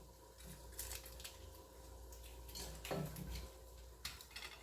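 A spoon or utensil stirs onion and pepper in a cooking pot for egusi soup, giving soft intermittent scraping and clinking against the pot, faint and close, with no talk.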